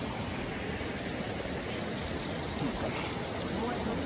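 Fresh spring water runs steadily from an upstream source into the ponds of a rainbow trout farm in Kaski, Nepal, making an even, continuous rush and trickle that fills the whole stretch without pause.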